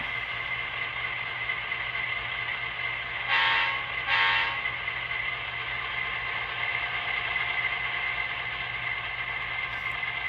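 A Walthers Mainline Central Vermont GP9 model locomotive idles with a steady sound-decoder diesel rumble and whine, then gives two short horn blasts in quick succession before settling back to its running drone.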